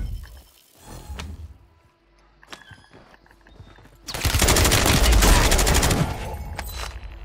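Call of Duty Warzone MW3 gunfire builds from a few scattered shots into a loud, sustained automatic burst lasting a couple of seconds, then tapers into lighter firing.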